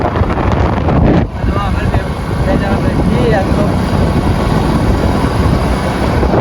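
Rushing wind buffeting the microphone over a low motorbike engine rumble while riding, with faint voices briefly audible in the roar.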